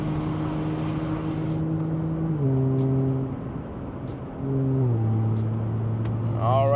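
Supercharged V6 of a 400 hp Audi S4 revving through gear changes on a scenic road, steady engine drone stepping in pitch twice with brief lifts, heard from inside the cabin with a window cracked.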